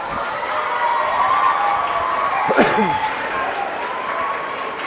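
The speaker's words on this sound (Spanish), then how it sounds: "Nos están aplaudiendo nosotros" Steady audience applause rolls on throughout at a reading of a punk fairy tale, filling the room at moderate volume while a voice speaks faintly underneath.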